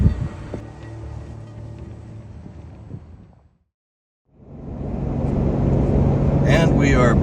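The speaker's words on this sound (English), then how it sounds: "there's a lot of noise with trucks pulling in and out" Truck engines rumble and idle nearby as trucks pull in and out, with a brief silent gap before the droning resumes louder, a voice speaking underneath.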